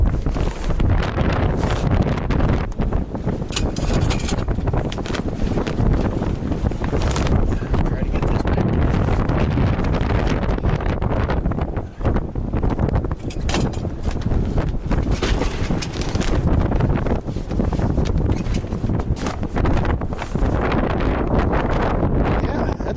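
Strong wind at an RV site buffets the microphone in a loud, continuous roar that goes on for the whole span with little letup.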